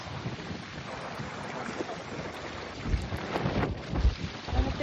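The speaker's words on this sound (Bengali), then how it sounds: "অনেক বাতাস" Strong wind buffets the microphone at a lakeside park where people are fishing, a constant rumbling roar with heavier low gusts toward the end, loud and close with no voices.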